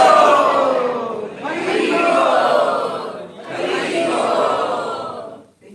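A crowd at a Bhagavat Sravana gathering shouts "Haribol" three times in unison to welcome Keshav Swami, each loud, drawn-out call separated by a brief pause.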